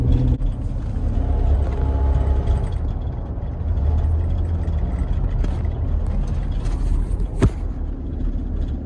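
A vehicle rolling at slow speed with a steady low engine rumble throughout, a faint rattle somewhere under it, and a single sharp knock near the end.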